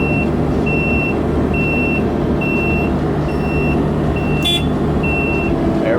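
A dump truck backs up beneath an excavator bucket during a garage demolition. Its reversing alarm beeps in a steady, regular rhythm over the constant low rumble of the diesel engine, with one brief higher beep near the end.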